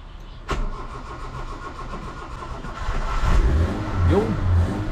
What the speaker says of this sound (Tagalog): Cherry Bird, engine start.